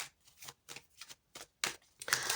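Tarot cards being shuffled and laid out on a table, with close riffling flutters in quick bursts broken by short pauses, then a denser final shuffle, no talk.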